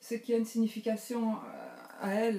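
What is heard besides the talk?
None of the usual background noises is heard.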